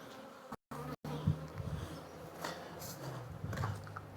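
Honey bees buzz close around a beekeeper in a bee yard, a continuous wavering drone that swells and fades as individual bees fly past near the microphone.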